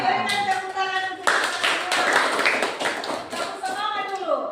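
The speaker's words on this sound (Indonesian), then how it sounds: "berikan tepuk tangan untuk" Seventh-grade classroom in Indonesia bursts into applause, a loud dense patter of many hands clapping for several seconds, framed by a teacher's voice speaking before and after.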